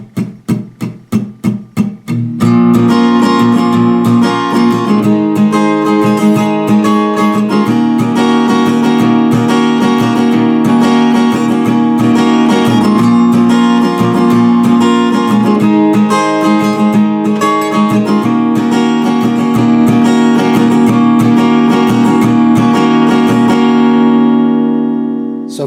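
Acoustic guitar strummed steadily in a repeating rhythm for a song, loud and close with bright chords ringing throughout after a few quick opening strokes, no voices.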